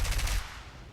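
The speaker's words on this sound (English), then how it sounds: "it is machine gun fire" Aircraft machine gun fire from a biplane in the War Thunder video game, a rapid rattling burst for about half the moment that then cuts off, leaving a quieter tail.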